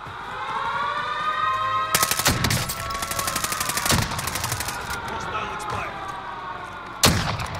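Rapid bursts of automatic gunfire from a Call of Duty Warzone match, loud and close, with a long sustained volley in the middle and a sharp burst near the end, over a steady ringing game tone.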